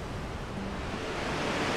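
Flooded rapids on the Caqueta River roar in a steady, dense broadband rush of churning water, loud and unbroken throughout with no voices.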